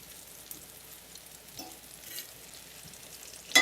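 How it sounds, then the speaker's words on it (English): Mushrooms and onions sizzle softly in a frying pan with a low steady crackle, a few faint stirring taps, and a sharp clatter at the very end. "I want my mushrooms and onions to be well, well cooked a little bit."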